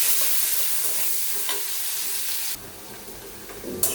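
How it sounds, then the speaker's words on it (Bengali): Onion, bay leaf and chilli frying in oil for muri ghonto with mung dal, a steady close sizzle with soft stirring scrapes, then a sudden louder hissing flare near the end. "পেঁয়াজটাকে ভালোভাবে ভেজে নিতে হবে, সুন্দর করে নাড়াচাড়া করতেছি।"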